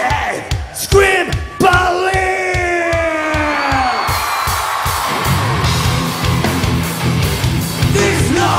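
A live rock concert crowd screams and yells in unison, loud sustained massed voices with harmonic swells, over pounding drums and amplified band that build into full music.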